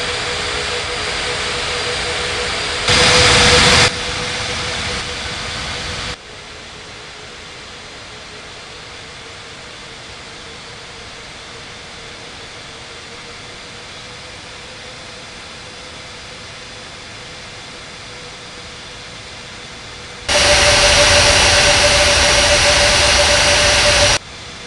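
Jet airliner engines whine steadily while taxiing to the gate in an air traffic control game at Bali, with a loud burst of engine noise near the start and another swelling near the end over a constant hum.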